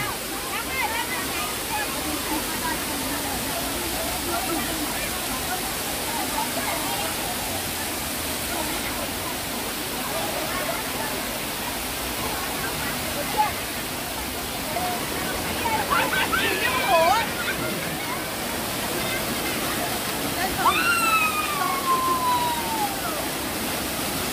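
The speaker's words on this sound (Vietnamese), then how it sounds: "đây tiếng nước ờ, rất là ồn rồi nhé" The waterfall at Phượng Hoàng cave in Thái Nguyên roars as a constant, loud rush of falling water that fills the whole scene, with faint voices and a few brief whistles heard beneath it.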